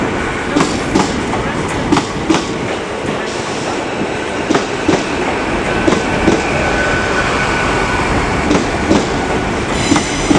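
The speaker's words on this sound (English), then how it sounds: "now coming in is 800 106 with the 1415 LNER service to London King's Cross from Harrogate" LNER Class 800 unit 800 106 pulls into Leeds station on a Harrogate to London King's Cross service, a steady rumble of wheels with rhythmic clickety-clack over rail joints and faint squeals, close by.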